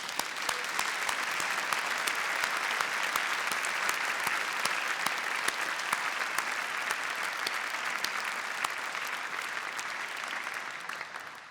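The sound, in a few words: graduation ceremony audience applause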